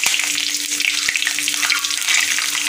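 Cumin, mustard seeds and chili sizzle and crackle in hot oil in a pan, a loud, bright, continuous frying hiss with a faint clink partway through and no talking.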